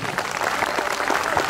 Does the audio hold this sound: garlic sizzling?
no